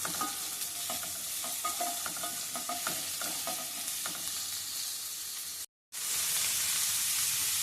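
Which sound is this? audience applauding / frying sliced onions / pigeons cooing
frying sliced onions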